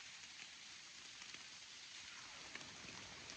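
Heavy rain pouring down at a deer camp on a warm day, a dense steady hiss of drops drumming on surfaces, close and continuous with no talking.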